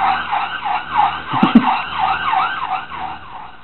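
A police car siren wails in a loud, repeating up-and-down pattern as it passes close by on a street, with a brief knock of nearby traffic noise midway.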